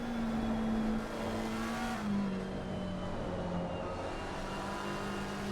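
A McLaren race car engine in Assetto Corsa Competizione at Suzuka during an endurance race, droning steadily at high revs with slight pitch shifts as it changes gear, moderately loud and continuous.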